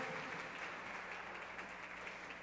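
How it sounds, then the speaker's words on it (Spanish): A church congregation claps together during a Sunday worship service, producing a steady, dense wash of applause heard from a distance at low volume. "Dele palmas al Señor"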